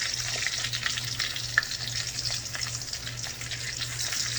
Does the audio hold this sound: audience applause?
no